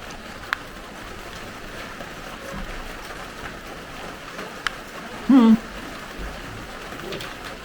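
Steady rain falls outdoors in Tibet as a broad, even hiss, with a brief bird coo and a few small knocks over it.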